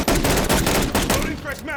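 Rapid automatic gunfire from Call of Duty Modern Warfare 3, a dense loud burst of shots under game sounds for under two seconds.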